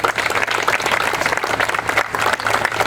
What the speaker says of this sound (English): Let's give a big round of applause to their sacrifice,